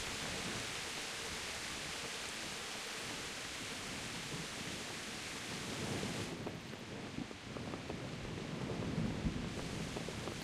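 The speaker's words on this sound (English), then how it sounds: "Ooh, and it's raining." Rain hisses steadily in the video game Kingdom Come: Deliverance, with a low rumble of thunder swelling midway; soft, wide ambient noise with no talking.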